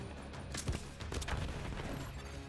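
Gunfire in The Recruiter video game: dense overlapping shots and bursts crackle steadily across a short stretch, mixed with booms and game effects at a constant loud level.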